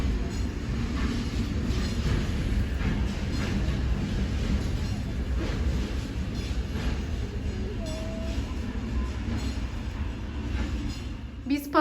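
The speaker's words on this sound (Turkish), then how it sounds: "Bakın Zonguldak'ın trenleri eksik olmaz kömür trenleri." A coal train in Zonguldak, Turkey rumbles past steadily with a dense low roar and rattling wheels for the whole stretch, a brief squeal near the end, heard from close by.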